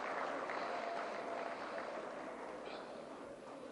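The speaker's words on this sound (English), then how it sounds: "Please, a round of applause for them." Dense, steady applause from an awards ceremony audience fills the room, a broad wash of clapping that holds at an even level and eases slightly toward the end.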